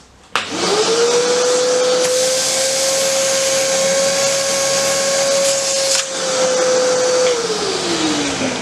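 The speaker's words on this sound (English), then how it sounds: "I'm just going to take my normal household vacuum" A household vacuum cleaner switches on and runs with a loud, steady motor whine and rushing air, then spins down near the end.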